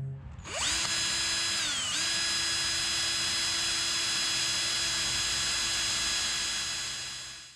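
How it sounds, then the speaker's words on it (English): A power drill with a 1/4 inch bit spins up and drills a hole, a steady loud high whine that dips briefly in pitch partway through, then holds continuously until it winds down near the end. "I used a 1/4 inch drill bit, simply drilled a hole and augured it out a little bit"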